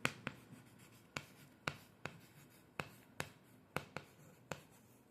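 Marker or chalk taps and short strokes on a board, about ten sharp distinct hits at an uneven rhythm over a quiet room, close and moderately loud, no talking.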